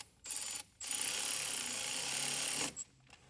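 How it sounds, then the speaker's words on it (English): A ratchet tightening a bolt during a power frunk install in a Tesla Model Y, one continuous close run of rapid clicking, with a short burst before and a brief tail after. "And we're going to go ahead and tighten that as well."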